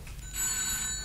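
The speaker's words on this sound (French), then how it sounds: "Ah, le téléphone." A telephone bell rings indoors, a bright sustained electric ring that starts partway in and carries on to the end, with no talk over it.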